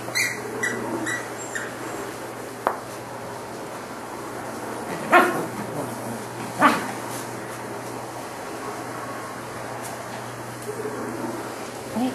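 Dogs bark outdoors, with a couple of sharp, fairly distant barks standing out over a steady background hiss and scattered faint yips.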